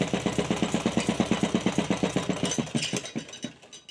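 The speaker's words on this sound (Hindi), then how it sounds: "अब फिर हम इसे इस तरीके से पलटेंगे और इसे सिलाई पूरे में लगा देंगे।" A sewing machine stitches a blouse seam with a rapid, even mechanical chatter that slows and stops near the end, close and alone with no talk.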